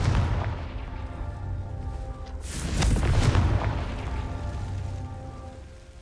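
Confringo spell explosion in the Hogwarts Legacy video game: a loud boom erupts midway with a crackling, rumbling burst, layered over steady game music and ambience.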